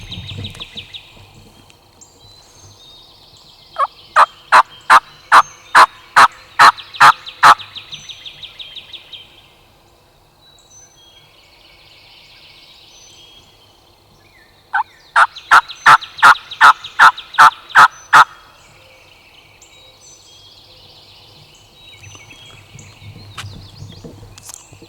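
Wild turkey gobblers calling in the early morning on private land in Mississippi: two loud, fairly close bursts of rapid, rattling gobbles about ten seconds apart, with quiet woodland between them and no talking.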